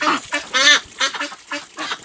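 Several healthy Peking ducks quack loudly and repeatedly as they run about and feed, making close, rhythmic bursts of calls with no talking.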